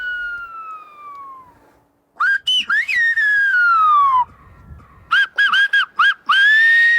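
Loud, piercing Canary Islands whistled-language calls with sliding pitches: a long falling whistle, then rapid choppy whistled syllables and sustained notes, carrying like spoken phrases.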